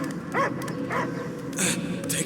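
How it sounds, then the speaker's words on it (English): A dog barks and yips in the Guardians of the Galaxy video game, in several short bursts spread across the moment, mixed with voices talking. "I hear only barking."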